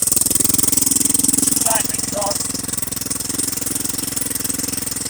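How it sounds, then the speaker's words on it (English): A loud, rough-running engine with an exhaust leak idles with a rapid, sputtering exhaust pulse throughout; a couple of brief voices sound faintly underneath. "She's got an exhaust leak for sure."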